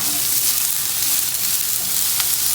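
Sliced onions, a large batch for vegan Mexican enchilada filling, fry in a pan with a steady, close, even sizzle and no voices.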